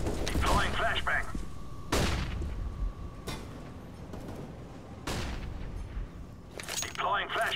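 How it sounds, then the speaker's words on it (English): A flashbang grenade in CS:GO pops and booms several times amid other gunfire bursts, with mid-level blasts and game radio chatter heard between them. "Deploying flashbang."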